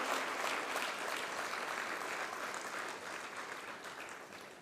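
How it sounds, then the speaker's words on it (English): Sustained applause from a school annual day audience clapping for young children, a dense steady patter that stays loud throughout and eases slightly toward the end. "Can we have a big round of applause for all the children who came till here?"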